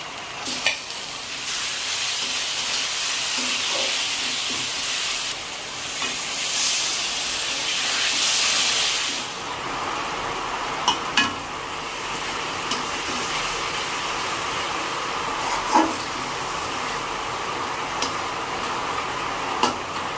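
Spice paste of turmeric, chili powder, ginger and garlic sizzles and fries steadily in a pan for chicken curry, with occasional scrapes and stirring clicks over a loud continuous hiss and no talking.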